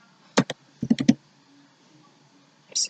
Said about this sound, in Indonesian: Di sini saya akan mengetik nama sekolah